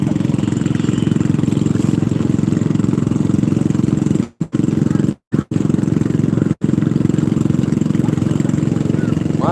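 A boat engine runs off Calatagan, Batangas, a steady close drone that hums evenly, broken by a few brief cutouts partway through.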